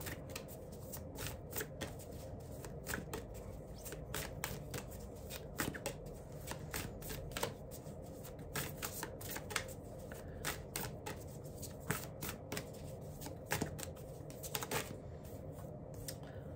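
A Traveler oracle card deck being shuffled by hand, a rapid, continuous run of crisp riffling flicks and slaps held up close for the whole stretch, with no voices.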